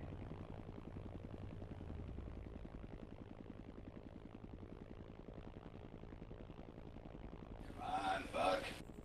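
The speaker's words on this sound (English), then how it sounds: "Fucking chopper's not cooperating." A helicopter in the City Life RPG 2 video game drones with a low, steady rotor and engine hum throughout, faint and distant, ending with a brief burst of louder noise.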